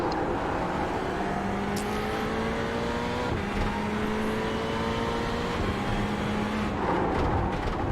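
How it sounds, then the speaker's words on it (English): An Audi race car engine at a VLN six-hour endurance race, a loud continuous drone with rising and shifting pitch as the car accelerates and passes, steady with no talk. "The Audi to me just sounds so different."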